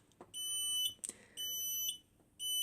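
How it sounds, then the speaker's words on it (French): Finsécur Celtic-BAAS fire alarm panel sounding: a piercing electronic alarm tone in long bursts with short gaps, broken by a couple of clicks, close and loud with no speech. "ce qu'il faut faire en cas d'alarme feu, on fait arrêt de signal sonore."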